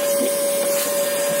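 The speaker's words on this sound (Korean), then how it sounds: "청소기로 쉽게 빨아낼 수 있습니다." A vacuum cleaner runs steadily with a constant whine, sucking coffee grounds out of a coffee grinder, loud and close with no talking.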